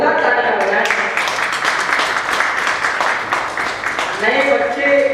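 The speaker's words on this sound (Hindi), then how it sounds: "आप एक बार जोरदार तालियां बजाएं" Audience applause at a Hindi poetry recital, a dense steady wash of clapping running the whole stretch, with a voice speaking over it near the end.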